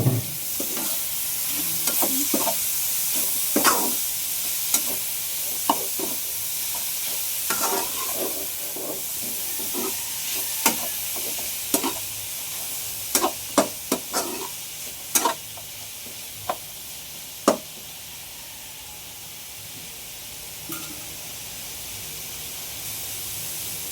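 Boiled bamboo shoots (labong) being stir-fried in a pan, a constant sizzling hiss with scattered sharp clicks and scrapes of the spatula, no talking.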